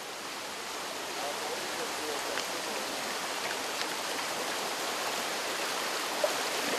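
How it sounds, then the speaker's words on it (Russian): Water scooped by hand from a mountain spring stream in the Chechen highlands, using a folded makeshift cup, with a steady broadband trickle and splash running throughout at moderate, constant level and a small splash near the end. "Сейчас мы черпаем воду."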